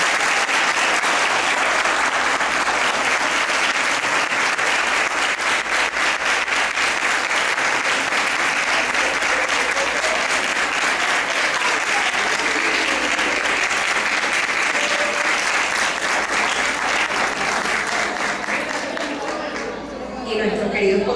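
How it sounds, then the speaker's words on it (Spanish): Strong, sustained applause from a large audience at a sixth-grade graduation ceremony, steady dense clapping for about twenty seconds that tapers slightly at the end. "Fuerte aplauso para ellos."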